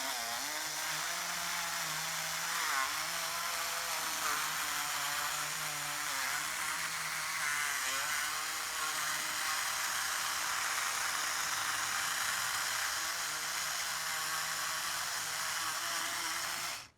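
A small high-speed electric motor spins a 3D-printed angled CVD joint at around 11,000 RPM, a steady loud whining hum that holds for the whole stretch before cutting off at the end, with no talking.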